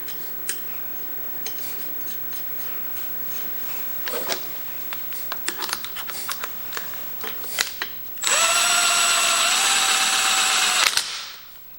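A power tool runs a bolt into the crankshaft of a 16 horsepower engine going into a 1974 John Deere 112, a steady loud whir lasting about three seconds after scattered clicks and tool handling.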